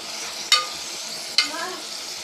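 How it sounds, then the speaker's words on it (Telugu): Mutton curry with onions being stirred in a pan, two sharp scraping strokes of a spoon against the pan over a soft, steady sizzle. "అటు ఇటు కలుపుకుని"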